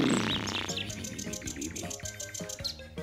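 A parrot sings in bright, busy chirps and tweets over several seconds, close and fairly loud, as part of a children's storytelling show, with a musical backing underneath.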